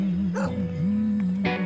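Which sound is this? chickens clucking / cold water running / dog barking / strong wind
dog barking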